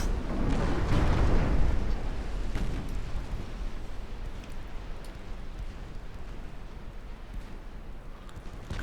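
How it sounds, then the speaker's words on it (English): In a naval battle game, a torpedo hits a ship with a heavy, deep explosion that booms early and then decays into a long rumbling roar, loud and close, with no talking. "That's a big old torpedo."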